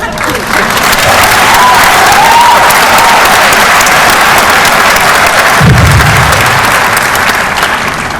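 A large audience claps loudly and steadily at the Electoral Commission's official declaration of the 2019 election results. The dense, sustained applause fills the hall for the whole stretch without a break.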